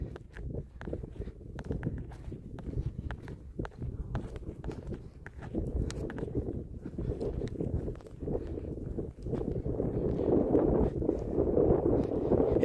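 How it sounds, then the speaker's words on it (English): Wind buffeting a microphone outdoors on a hike at the Three Rivers Petroglyph Site, a steady low rumbling roar with irregular gusts and a few crunching footsteps, growing stronger toward the end. "It is a little windy."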